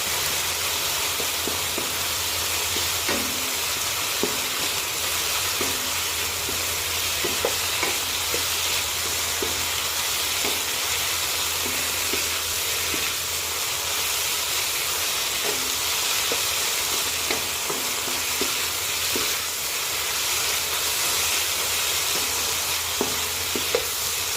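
Holy basil and eryngii mushrooms stir-fried fairly dry in a pan for a Thai vegetarian krapow: a constant loud, hissing sizzle close up, with frequent light scraping and tapping of the spatula throughout.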